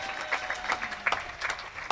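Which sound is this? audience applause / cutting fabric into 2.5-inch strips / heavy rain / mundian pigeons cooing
audience applause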